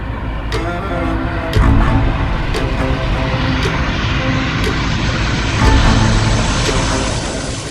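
An MH370 airliner takes off from runway 32R at night, its jet engines roaring loud and near in a sustained, steady blast with a few brief surges.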